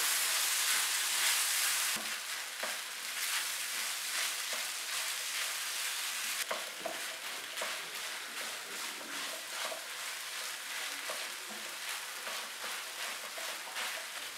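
Chicken pie filling cooks in a pan, giving a steady broadband sizzle and hiss with a few soft clicks of stirring, loudest in the first two seconds and then settling to an even, close simmer with no voices.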